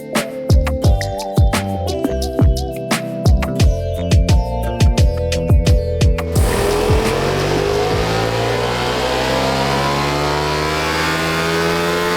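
A Ducati Multistrada V4 Gran Tourismo engine on a dyno pops and crackles through rapid revs for several seconds, then holds a loud, steady rising wail as the rpm climbs, close and alone with no talking.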